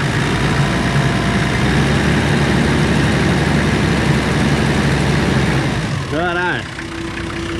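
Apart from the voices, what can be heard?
Old 80 engine idling after an oil change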